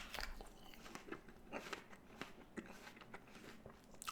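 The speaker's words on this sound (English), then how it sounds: "this one kind of like stays crunchy" Crunchy Gala apple being bitten and chewed up close, with repeated crisp crunching bursts in a quiet room, faint and without talk.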